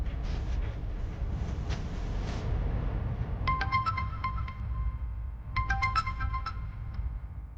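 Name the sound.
phone ringing as a call is placed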